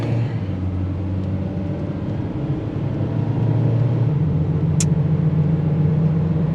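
Cars pass along a road in a continuous low rumble that builds slightly as one draws nearer, with a brief high click partway through.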